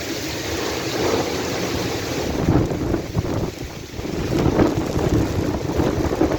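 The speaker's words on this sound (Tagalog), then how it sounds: "lumalakas po ang ulan" Heavy typhoon rain during Typhoon Aghon in the Philippines, with strong wind buffeting the microphone; a dense, steady roar of downpour near and loud throughout, swelling in bursts, with no talk.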